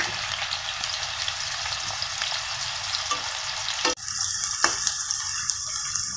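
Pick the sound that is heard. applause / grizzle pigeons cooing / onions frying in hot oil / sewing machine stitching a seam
onions frying in hot oil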